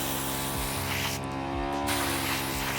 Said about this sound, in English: I tried to spray paint it.